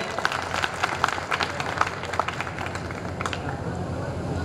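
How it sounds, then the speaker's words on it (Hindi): Audience claps to welcome a guest at a public event, a steady dense applause from a crowd filling the room with continuous patter, moderately loud and unbroken. "उनके लिए हम सब लोग जोरदार ताली से स्वागत करें।"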